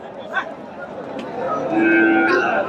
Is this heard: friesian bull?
yes